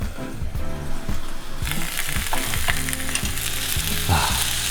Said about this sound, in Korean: 팬에 올리브오일 두르고 야채들을 올려 후추 한 바퀴